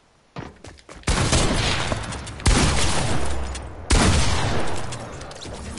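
Heavy rifle shots boom in a video game, three loud blasts each followed by a long echoing rumble, preceded by a few quieter clicks and shots.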